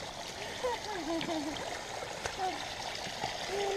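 Rainwater streams down a wet mountain hiking trail during a hard sprinkle, a continuous close trickling and gurgling flow with small splashes throughout.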